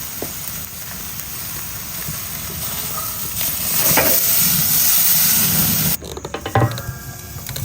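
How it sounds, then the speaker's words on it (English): Steady hiss and crackle of steak frying in a hot pan, close by, swelling louder midway, then broken by clatter and bumping near the end. "Look at that sizzle."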